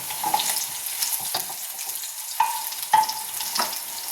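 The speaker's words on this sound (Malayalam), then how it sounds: "എണ്ണ ചൂടായതിൻ്റെ ശേഷം നമുക്ക് ഉള്ളിട്ടെടുക്കാം" Onion and dried red chillies frying in hot coconut oil in a pan, a soft crackling sizzle with a few sharp clinks and scrapes of stirring, fairly quiet and close, no voices.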